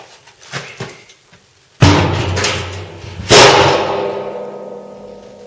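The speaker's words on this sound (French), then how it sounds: "on va mettre la boîte sur le tonneau" A BMW E36 325 TDS six-cylinder gearbox, full of oil and weighing around 20 kg, set down onto a barrel in a workshop: two loud, close thuds with a metallic ring, the second sharper, each leaving a lingering resonant tail.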